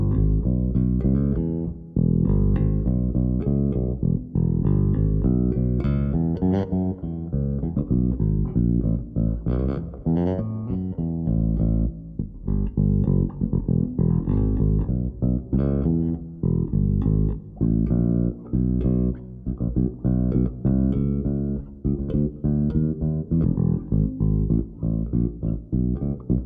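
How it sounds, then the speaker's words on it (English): A bass guitar strung with black-coated Rotosound Nexus strings plays a busy, punchy line for nearly half a minute. The notes are firm and rounded, close and steady, with no talking over them. "That's the sound of the black-coated Rotosound Nexus bass strings."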